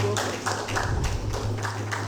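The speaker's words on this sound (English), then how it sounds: "Round of applause for them, please." Audience applause at a school debate grand final, a steady patter of clapping hands held at an even level under a low hum, moderately distant with no voices over it.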